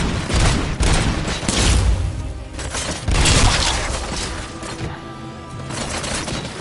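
Loud gunfire in a RoboCop gunfight rips through in dense, rapid bursts, with sharp shots, booming hits and shattering debris layered over one another and barely letting up.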